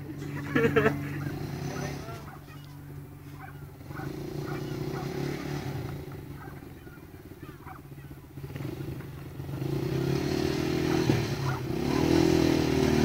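A motorcycle engine revs and accelerates at a Chirino extreme board event, a steady low drone that swells and climbs toward the end, with voices shouting over it.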